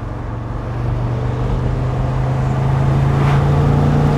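A 2003 BMW Z8 Roadster with a heavy front-mounted engine drives along steadily, its smooth engine drone swelling slightly and holding a constant tone, with no talking.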